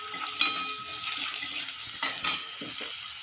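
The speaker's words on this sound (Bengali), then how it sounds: "পেঁয়াজটা 1 মিনিট মতো নেড়ে নেব।" Onions are stirred in a pan for a soybean and pea dal, giving soft repeated scraping and clinking strokes over a wet, hissing sizzle, fairly close and quiet, without talk.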